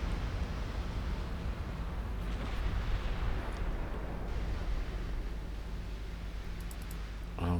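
An 18-inch shell strikes a warship in Ultimate Admiral Dreadnoughts, a low, sustained explosive rumble heard at a distance, steady and muffled throughout with a few faint clicks near the end.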